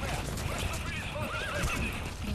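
A horse in Metal Gear Solid V gives a wavering whinny over a muffled hoof rhythm, up close, with a voice murmuring underneath.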